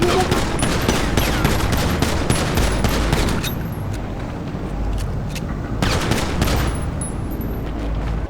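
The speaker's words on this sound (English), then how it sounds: "Apparently another shooting has just occurred up in Blaine." Rapid bursts of automatic gunfire from a shooting in the GTA video game, loud and close with sharp repeated cracks over a steady din, continuing through the whole stretch.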